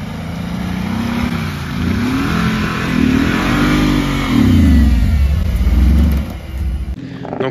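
An off-road vehicle on muddy terrain in Auvergne, its engine held at full throttle with a loud, strained roar that rises and falls in pitch over several seconds before suddenly dropping off.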